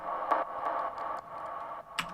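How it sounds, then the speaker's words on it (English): Soft Foley percussion hit processed with EQ and a little delay, a quiet tick repeating several times as fading echoes, ending in a slightly brighter tap. "So the next thing that we've got here is just this little Foley hit"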